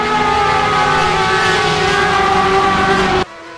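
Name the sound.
Porsche GTE race car engines roaring, from a racing video game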